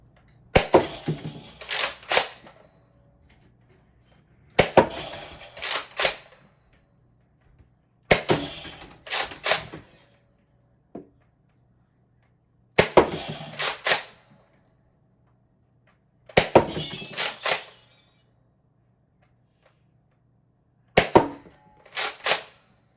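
A blue Nerf Rival Helios XVIII-700 blaster fires in spaced clusters, each a quick series of sharp snapping pops with the clack of the mechanism, several bursts separated by quiet pauses, close and loud.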